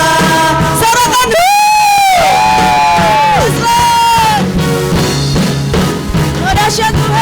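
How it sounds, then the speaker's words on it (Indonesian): A church congregation at a Sunday worship service shouts and cheers in a loud, sustained roar, with rising whoops and yells layered over continuous music. "Sorakan"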